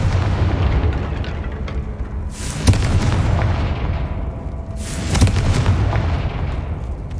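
Confringo fire spell blasts in the video game Hogwarts Legacy, two loud booming explosions a few seconds apart over a continuous rumbling game backdrop.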